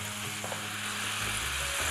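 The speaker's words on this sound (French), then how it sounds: "Quand elle est à point, ajoutez les ormeaux. Faites réduire la sauce à feu vif." Sauce with abalone reducing over high heat in Qing imperial cooking, a steady close bubbling sizzle with faint low knocks and a rising rumble toward the end, no one speaking.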